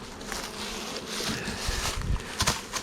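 Bees or wasps buzz around a small hive, a soft continuous drone that is fairly faint and steady, with light rustling and a few brief knocks near the end.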